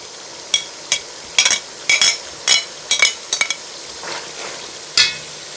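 Sliced onions go into a pot of hot oil with cooked meat for a Kazakh dough dish, and a utensil scrapes and knocks against the pot in a dozen sharp, irregular strokes over a soft background sizzle.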